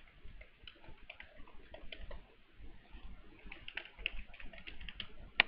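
Light, rapid keyboard typing on a computer, a library barcode number and password being entered, quiet irregular clicks in short bursts with brief pauses between them.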